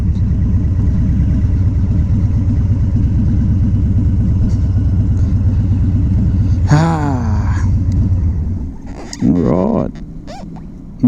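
A 2018 Harley-Davidson Fat Bob 114 idles with a steady, loud, close rumble before the engine cuts out, while someone talks near the end.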